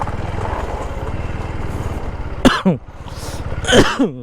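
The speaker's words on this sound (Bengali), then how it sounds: "কাশি লাগতেছে" A man coughs and clears his throat twice, sharp close bursts, over a constant engine drone in a crowded street.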